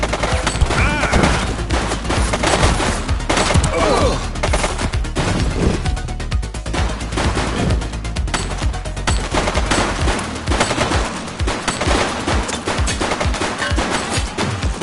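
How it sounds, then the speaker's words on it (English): Sustained, loud gunfire from a shooting suspect in The Precinct video game, dense bursts of shots crackling throughout, easing slightly near the end. "She's shooting!"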